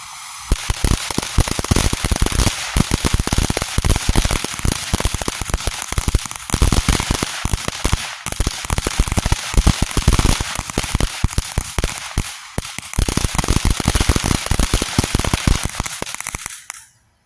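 Firework fountains crackle densely and continuously, a loud close sputtering fizz with rapid pops that runs nearly unbroken for about seventeen seconds before cutting off.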